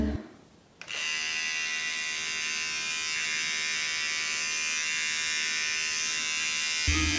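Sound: electric hair clippers with 9 mm attachment

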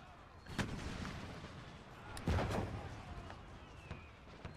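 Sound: cannon under gunfire in the video game Empire Total War

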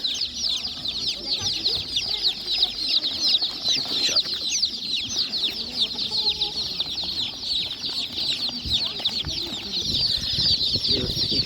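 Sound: day-old Czech Dominant chicks at an animal market

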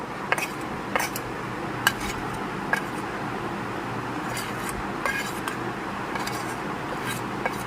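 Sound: stirring ground spices into a little water

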